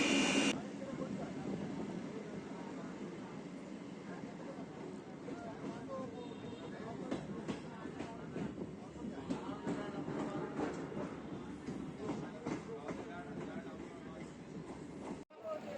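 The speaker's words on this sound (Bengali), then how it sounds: "ট্রেন আমাদের এসে পৌঁছালো চুঁচুড়া।" A galloping local train on the Memari to Howrah line rumbles steadily from inside the carriage, with faint rhythmic clatter from the wheels and indistinct background voices throughout.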